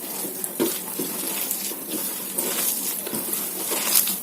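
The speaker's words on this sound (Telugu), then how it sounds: "వాటర్ అయితే కొంచెం పోసుకోండి" Water is poured into a vada batter of maida and bombay rava with onions, giving a steady splashing trickle that runs close and continuous for a few seconds with no talking.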